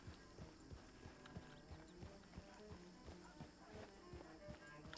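Horse hooves clip-clop at a canter in a ranch roleplay video game, a steady rhythmic beat of hoof strikes at close range with faint background ambience.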